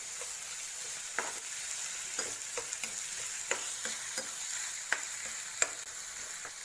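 Chopped tomatoes being stirred into sautéed onions in a pan for boiled egg bhurji, with a quiet steady sizzle and occasional light spatula scrapes and taps, close but fairly soft.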